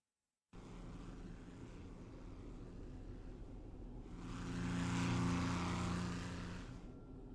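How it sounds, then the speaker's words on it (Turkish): An airplane drones steadily in the video game Potentia, its engine growing louder and fuller in the second half, alone with no talk. "Tamam, uçakla devam yolculuğa."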